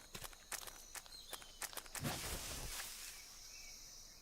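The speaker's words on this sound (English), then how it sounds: "I heard footsteps" Footsteps in Metal Gear Solid 3: Snake Eater in a Soviet wilderness, a quick run of soft, quiet steps with no talking, ending in a brief louder rustle and faint ambient hiss.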